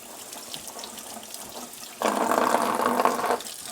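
A tap turns on abruptly and water runs steadily as potatoes are washed beneath it, a close, continuous splashing rush that lasts over a second and then eases off.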